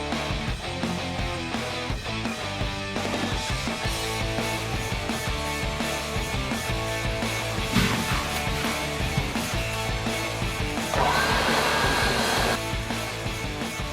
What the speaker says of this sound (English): Got a flap disc. Well, it's not a flap disc. It's like a stripper disc.